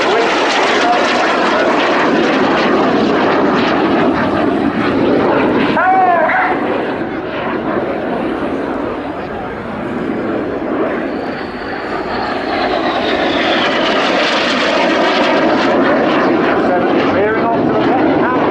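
Red Arrows jets roar overhead during an aerobatic display at the Royal International Air Tattoo 2019, a loud sustained engine rumble that swells and fades as they pass, with a commentator talking over it.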